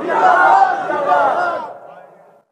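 A large religious gathering shouting its response to a takbir call, many voices roaring together in a loud, sustained swell that fades out after about two seconds.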